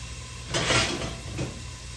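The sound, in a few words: stirring pizza soup in a pot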